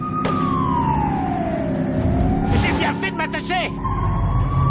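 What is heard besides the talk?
police siren in The Godfather II video game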